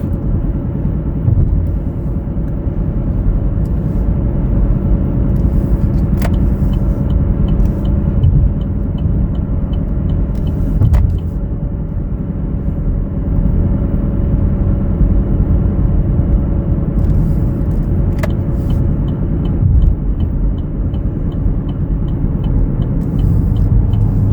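A 2019 Chevrolet Equinox LT on a test drive, heard from inside the cabin as a steady low road and engine rumble with a few faint clicks, continuous and fairly loud.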